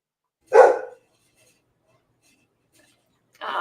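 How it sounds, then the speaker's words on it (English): A female dog gives one loud, deep, gruff bark close by, then there is silence until a second bark begins near the end. "but she's got deep bark."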